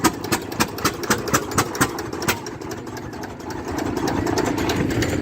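A diesel 801 tractor idling at a fair, giving a rhythmic chugging pulse of regular knocks at first that then blends into a steadier, louder engine rumble.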